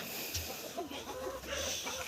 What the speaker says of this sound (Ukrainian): Бачите, кури грибуть його.